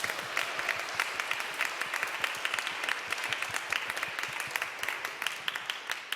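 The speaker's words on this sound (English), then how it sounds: "So round of applause, please." A large audience applauds steadily, a dense continuous patter of many hands clapping that holds its level throughout.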